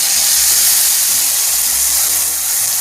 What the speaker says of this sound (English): Now the oil is nice and hot, and I am adding some cumin